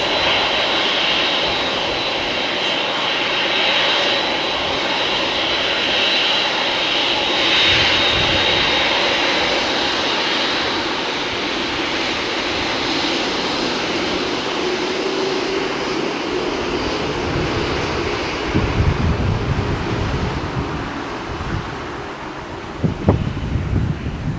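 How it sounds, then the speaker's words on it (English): A Lufthansa airliner bound for Frankfurt roars at LAX with a broad, steady engine rumble and wind buffeting, sustained and loud, with some thumps near the end. "that is Lufthansa flight 457 back to FRA Frankfurt, Germany"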